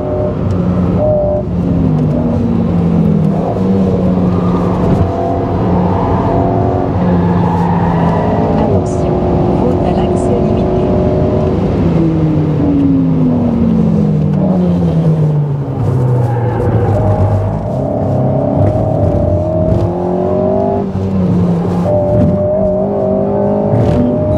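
A 2022 Alpine A110 S drives hard on a race track, its engine droning loud and close throughout, pitch climbing and dropping through gear changes, with a driver talking over it.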